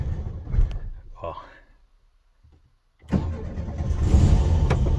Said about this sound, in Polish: A teraz zobaczmy, jak garbusek odpali po nocy, po ulewnych opadach.